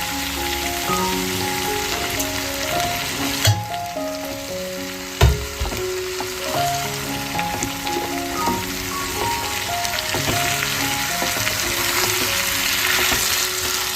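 Ground spices with coriander powder and a splash of water cooking down in a hot pan, giving a steady broadband sizzle with a few sharp stirring knocks, while a melodic tune plays over it.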